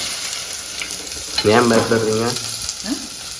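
A large onion frying in oil that has got very hot in a home kitchen pan: a steady hiss throughout, with a louder, brief tonal sizzle and scrape in the middle of the clip.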